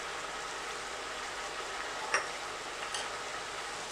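Keema and peas fry quietly in a pan, giving a faint steady sizzle with a couple of brief clinks of a spoon or spatula against the pan.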